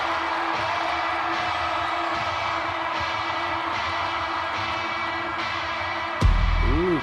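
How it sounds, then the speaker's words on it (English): A large crowd roars and cheers steadily at a concert scene in a film, a dense wash of voices throughout before a sudden loud burst of music near the end. "Big crowd."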